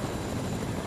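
A helicopter flies in the Fortnite video game, a steady dense rotor drone with a low throbbing pulse that holds constant and fairly near for the whole short moment, with no voices.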